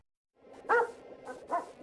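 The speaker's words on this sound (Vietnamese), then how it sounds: "Con chó này làm sao đây?" A cartoon dog in a Buddhist animated film gives three close, fairly loud barks, the first the strongest, heard alone in a quiet scene.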